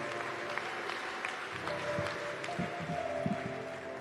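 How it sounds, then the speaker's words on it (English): Continuous crowd applause for Congressman Jonathan Jackson at the Rainbow PUSH annual conference, heard at a distance with low murmuring voices mixed in. "Give a round of applause to Congressman Jonathan Jackson."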